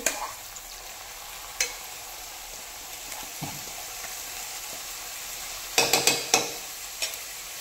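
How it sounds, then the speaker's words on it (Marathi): Finely chopped onion sizzles softly in melted butter over a high gas flame while making pav bhaji. A steady low hiss runs underneath, with sharp spoon clinks scattered throughout and a quick cluster of scrapes near the end. "बटर मेल्ट होते, आपण कांदा घालून घेऊया"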